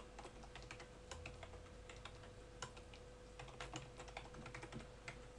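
Typing on a computer keyboard while entering lead details into a form, a steady quiet stream of close key clicks with no speech.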